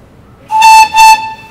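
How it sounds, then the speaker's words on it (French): A tram horn sounds two short, loud tonal blasts in quick succession, steady pitch with a brief gap between them. "Ensuite ici il y a le klaxon."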